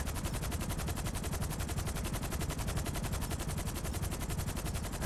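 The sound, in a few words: combat MG machine gun firing in video game GTA V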